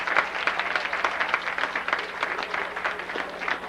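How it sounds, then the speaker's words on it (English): Audience applause at a 1994 high school awards ceremony, steady crowd clapping across the whole stretch, moderately loud in a large room. "Please give Sarah a round of applause."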